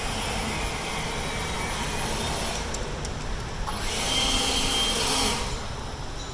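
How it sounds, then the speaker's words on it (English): A Kobalt 24V cordless leaf blower runs continuously up close, a loud steady airy whoosh with a motor whine that swells briefly toward the end, no voices. "The weed blower. Try not to blow my mulch everywhere."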